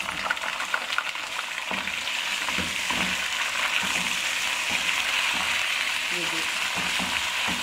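Frozen beef mince frying in a pot, with a loud continuous sizzle and crackle punctuated by repeated scraping stir strokes, close and steady throughout.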